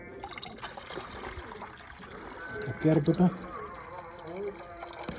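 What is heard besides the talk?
pouring hot water into a container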